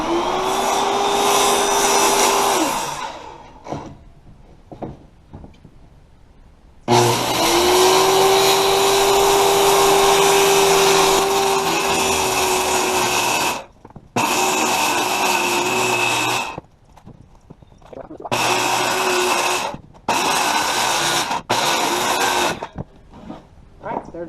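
A power saw cuts a wooden board to length for shed doors at a garage entrance, in several loud bursts: two long cuts with a steady whine and then shorter runs separated by pauses.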